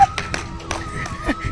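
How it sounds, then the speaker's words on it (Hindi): Hands clap a few quick, uneven times for a small child at home, with a voice talking between the claps. "ताली बजा दे जवानी इसके लिए,"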